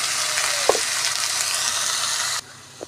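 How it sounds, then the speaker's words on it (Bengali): Washed moong dal frying in a pan with ginger and garlic for a green papaya dal, a loud continuous sizzle with one brief scrape of stirring, dropping off sharply near the end. "ডালটা ভাজা হয়ে এসছে"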